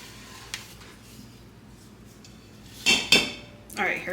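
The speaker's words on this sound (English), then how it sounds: "We're gonna scrape down the bowl." A spatula scrapes around a metal mixer bowl during baking, with a quiet stretch followed by a few close, bright metallic scrapes and clinks near the end.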